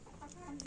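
A few soft, close clucks from backyard laying hens, brief and faint against a quiet background.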